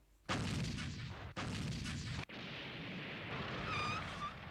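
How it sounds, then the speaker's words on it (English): Bombing and gunfire on pirates in the Sherlock Hound anime: three loud, sustained blasts of explosive rumble separated by brief gaps, ending in a long continuous roar with faint high whistling near the close. "Okay, is someone bombing the pirates?"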